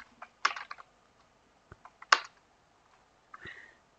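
Computer keyboard keys clicked in short irregular bursts while code is written, a few quick clusters of taps separated by pauses, close and fairly quiet.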